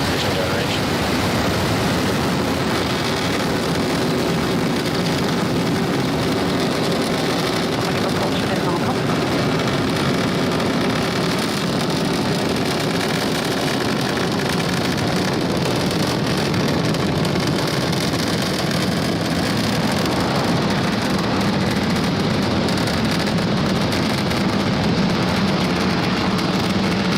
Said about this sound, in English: Ignition. And we have liftoff.